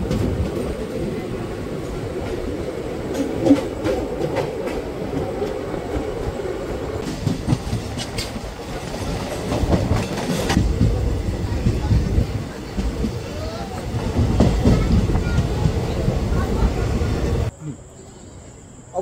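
A Digha–Kolkata special passenger train runs steadily with a continuous low rumble and rhythmic clatter of wheels on track, loud and close from inside a crowded carriage, ending abruptly near the close.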